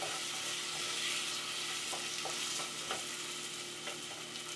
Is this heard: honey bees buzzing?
no